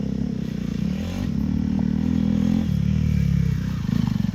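A Hero Xpulse 200 motorcycle on a dirt track gives a loud, close engine drone that rises and falls with throttle, with rough clatter over the terrain and a pulsing growl near the end.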